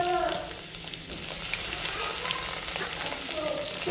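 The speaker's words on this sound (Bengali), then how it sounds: "আলুগুলো একটু ভাজার পরে ছুটিগুলো দিলাম" Potato pieces and drumstick vegetable sizzle softly in oil, a quiet, even frying hiss with faint stirring throughout.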